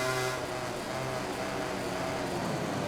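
A Ducati GP19 MotoGP bike in the MotoGP 19 video game at the Spanish GP, its engine a steady, dense roar under hard acceleration down the back straight.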